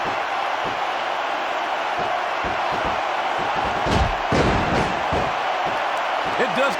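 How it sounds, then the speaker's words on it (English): Arena crowd noise from the WWE SmackDown! vs. Raw 2006 wrestling game on PS2, a steady broad roar with swelling shouts and bursts near the middle, running continuously under commentary voices. "Sounds like this crowd's got something on their minds, King."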